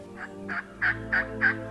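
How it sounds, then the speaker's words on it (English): A wild turkey gobbling outdoors, six evenly spaced calls in a rapid rhythm over a steady low hum, fairly clear and not far off. "It doesn't take long for us to hear the gobbling."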